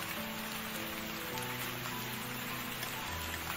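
Rain falls steadily outdoors over a plant nursery garden, a dense continuous patter on surfaces with no voices.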